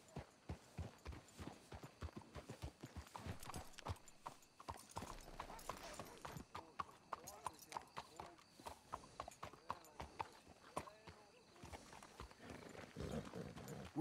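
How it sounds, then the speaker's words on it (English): Hooves clip-clop at a steady walking pace on a hard surface, faint and continuous, with people talking quietly over them, in the video game Red Dead Redemption 2. "Let's hitch your horses up ahead."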